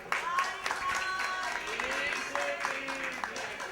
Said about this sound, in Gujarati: અને તાળીઓથી વધાવી લેજો.